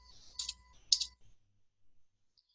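A number is tapped out on a computer keyboard for a drafting problem, giving two faint, quick clusters of clicks about half a second apart, close and quiet, followed by near silence.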